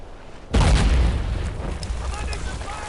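An artillery shell explodes in Brothers in Arms: Earned in Blood, a sudden loud, deep boom that hits near and rolls into a long rumbling decay with scattered battle noise behind it.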